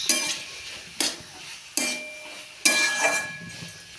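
Potato curry stirred in a pan with a metal spoon: four distinct scraping, clinking strokes about a second apart, close and fairly loud, with a soft sizzle underneath.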